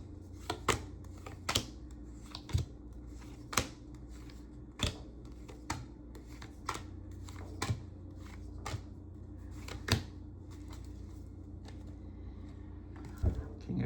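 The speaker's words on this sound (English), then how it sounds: "Need to shuffle these cards a little bit." A deck of tarot cards being shuffled by hand, giving a steady run of soft papery riffles and taps with sharper clicks roughly every second, close and fairly quiet, with no one talking.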